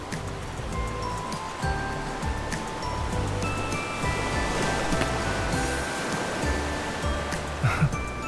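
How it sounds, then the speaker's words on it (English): Ocean waves from the video game Love and DeepSpace wash in a steady, continuous roar of surf with soft rustling texture, holding an even loudness throughout with only a brief swell near the end. "The waves here."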